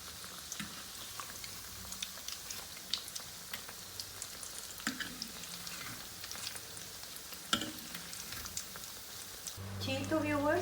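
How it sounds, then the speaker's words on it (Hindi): Chicken nuggets fry gently in oil over a low flame, a soft steady sizzle with faint stirring taps, under a background hum, and a brief louder burst near the end. "ये एक साइड से थोड़े थोड़े फ्राई हो चुके हैं और हम लोग इनको लाइट आंच पर ही फ्राई करेंगे"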